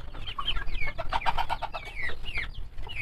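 Brahma chickens in a backyard give repeated close, clear clucks and short squawks, with several birds calling over one another.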